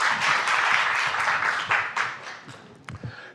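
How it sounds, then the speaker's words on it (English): Audience at a library association conference applauding, a dense burst of clapping that fades out over a few seconds with no talk over it. "Give him a round of applause."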